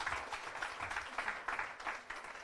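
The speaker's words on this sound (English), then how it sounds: "Can we have a little bit of an applause for that" A studio audience at a breast cancer awareness talk show gives a short round of applause, soft and fairly distant, with uneven bursts of clapping that rise and dip over a couple of seconds.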